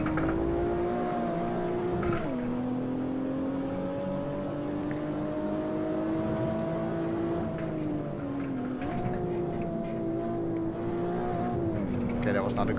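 A race car engine in the Assetto Corsa video game drones at high revs through corners, pitch sagging and climbing with each gear change and throttle shift, running steadily for several seconds with no pause.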